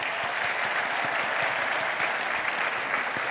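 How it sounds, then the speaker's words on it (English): Conference audience applauding award winners after a closing keynote, a dense, steady wash of clapping from a large crowd throughout, with no voices rising above it. "Give all the winners a round of applause"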